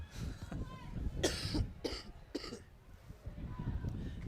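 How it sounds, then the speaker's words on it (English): A play-by-play commentator coughs several times in quick succession, three or four close, sharp bursts, during a college women's soccer broadcast, over a low ambient hum. "My bad for having a cough here too tonight."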